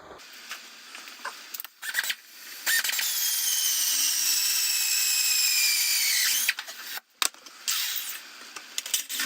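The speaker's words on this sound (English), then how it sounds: "I'm going to pilot drill that first." A power drill bores a pilot hole into a generator's metal exhaust pipe, a steady high whine lasting several seconds, preceded and followed by short bursts and clicks of the tool starting and stopping.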